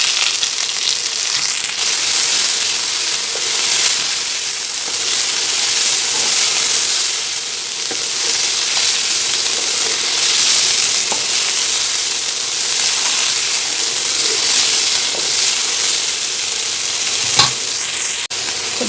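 Mint leaves sauté in a hot pan for mint thuvaiyal, giving a steady close sizzle and frying hiss with occasional stirring scrapes throughout, no voices.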